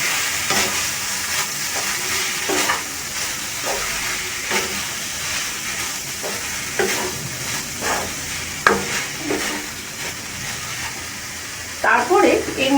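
A sweet coconut-paste mixture is worked around a pan, with repeated rhythmic stirring scrapes over a soft steady hiss and a clatter of utensils near the end.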